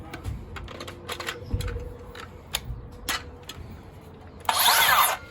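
Makita 40V XGT cordless circular saw with a 185 mm blade making its first cut: scattered handling clicks and taps, then a brief, loud, harsh whine of the blade biting in near the end, with no talking.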